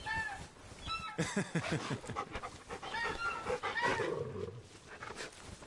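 A dog panting as it is petted in Final Fantasy XVI, with rapid rhythmic breathy huffs and a few soft whines, close and fairly loud, along with other game sounds.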